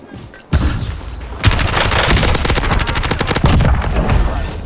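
Rapid automatic gunfire rattles loud and nearly continuous in the Warzone shooter game, dense overlapping bursts of shots following a brief quieter moment at the start.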